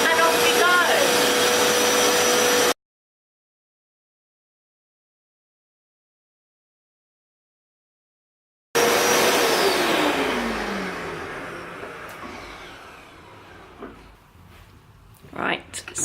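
Rug Doctor carpet cleaner on its carpet setting runs with a steady loud whirring drone, cuts out abruptly for several seconds, then starts again and gradually fades, with a few scattered bumps toward the end.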